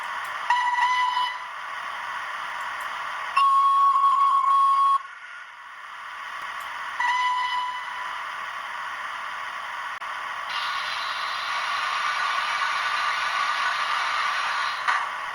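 Repeated train whistle blasts, several in a row, sounding slightly distant over a steady hiss.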